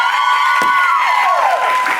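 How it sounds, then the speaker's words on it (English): A studio audience on a live daytime TV show applauds loudly and continuously, with a few cheers and a sustained musical tone sounding over the clapping. "very demure applause there"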